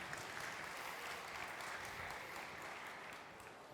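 An audience at a cooking show event claps for a chef, a faint and steady wash of applause lasting a few seconds.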